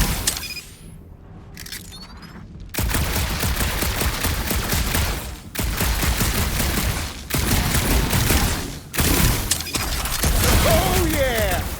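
Rapid sci-fi blaster fire in the Guardians of the Galaxy video game, dense bursts of close, loud shots broken by brief pauses, with game speech and effects mixed in.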